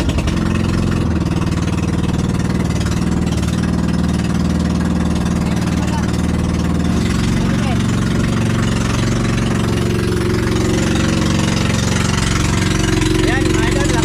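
A small boat motor runs at a steady idle with a low droning hum, close and constant, while people talk over it at times.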